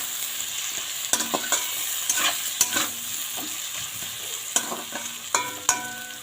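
Potato pieces frying in a pan with salt and turmeric, a continuous close sizzle broken by repeated sharp scrapes and knocks of a spatula stirring them.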